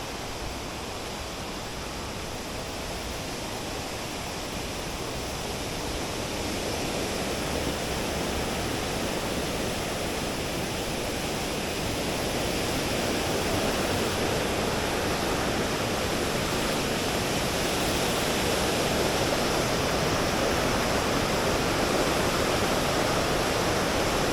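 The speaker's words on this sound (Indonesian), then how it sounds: "Ini dia air terjun Penawangan Serunggo yang ada di wilayah Bantul, Yogyakarta." Penawangan Srunggo waterfall in Bantul, Yogyakarta, gives a steady broadband rush of falling water. It grows slightly louder as the listener draws nearer and goes on unbroken for the whole stretch, with no voices.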